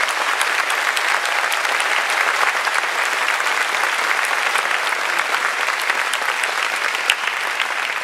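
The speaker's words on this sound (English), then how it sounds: "So please join me in another round of applause" Audience at a political speech by a US senator breaks into sustained, even applause, a dense wash of clapping that carries steadily throughout with no talk over it.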